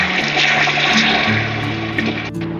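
Two and a half glasses of water pour into a pot of browned chicken for pulao, a loud, continuous rushing gush close by, with no talking.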